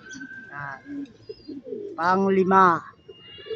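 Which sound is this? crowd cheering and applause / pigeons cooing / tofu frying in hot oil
pigeons cooing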